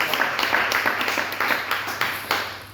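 Congregation applauding the Lord at a church service, rhythmic group clapping at moderate volume that pulses steadily for a few seconds in a reverberant room.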